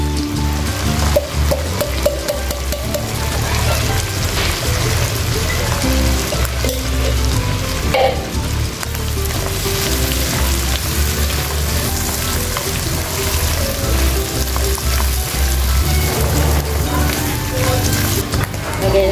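Mushrooms fry in a pan for a creamy carbonara, giving a constant, close crackling sizzle with occasional stirring, and faint talk can be heard under it.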